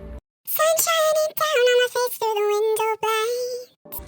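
A vocal sample in an R&B production, pitched up an octave so it sounds high and chipmunk-like, sings a short phrase of sustained notes broken by brief gaps and ending in silence.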